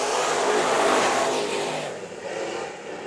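IMCA modified race cars roar off at the start of a heat race at Bakersfield Speedway, a dirt oval, the engine noise loud, dense and continuous as the pack accelerates away.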